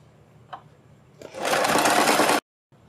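A sewing machine stitches the side slit of a kurti in one short, fast burst of loud, steady whirring, with quiet fabric handling before it and silence right after.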